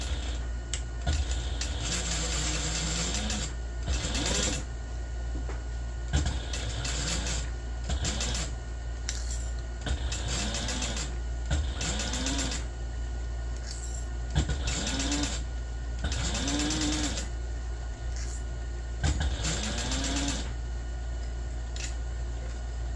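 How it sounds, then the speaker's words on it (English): Sewing machine stitching backpack fabric, repeated close bursts of rapid mechanical whirring separated by short pauses, running alone with no talk. "normally I would only sew to 1/2 inch from the other end, doing this part"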